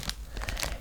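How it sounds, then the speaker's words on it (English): Plastic packaging around skeins of yarn crinkles as it is handled, a brief close rustle with several quick crackling bursts. "So I'm sorry for all the crinkling"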